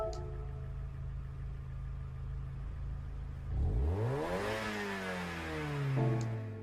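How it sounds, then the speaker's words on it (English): Honda Civic EK roadster touring car in Gran Turismo 7 idles with a steady low engine hum, then revs up sharply with rising pitch, drops back, and revs again near the end. "the roadster touring car. I wanna hear the noise."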